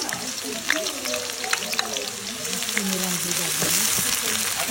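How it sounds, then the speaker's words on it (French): Onions sizzle and fry steadily in a hot pan while a civet is prepared, the crackle rising slightly in density toward the end, with voices talking over it. "Et là, tu fais revenir les oignons."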